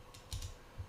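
Several soft, quick key clicks on a computer keyboard as a number is entered, in short bursts with gaps between them, quiet and close, with no talking.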